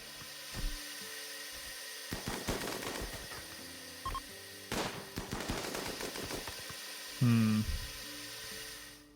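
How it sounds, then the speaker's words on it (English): Gunfire during a raid in RimWorld: scattered bursts of rapid shots and a few single cracks at moderate distance, ending in a louder buzzing burst near the end, with quiet gaps between volleys. "What are they shooting?"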